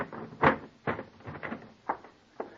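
A wardrobe trunk lid is forced shut with a series of hollow wooden thumps and knocks, one strong bang followed by several lighter, irregular bumps close by.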